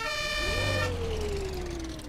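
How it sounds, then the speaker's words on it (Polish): Police car siren in the Brick Rigs video game, a loud continuous wail that starts with a high horn-like tone and then settles into a long falling sweep, heard alone with no talking. "Czy możemy włączać syrenę? Możemy."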